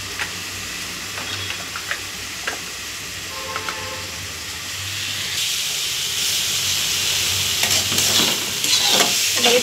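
Elephant foot yam sautés in a pan with turmeric and salt: scattered clinks and scrapes of stirring at first, then a steady, louder sizzling hiss with occasional taps close by.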